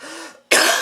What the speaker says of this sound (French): si vous m'avez entendu tousser sur Internet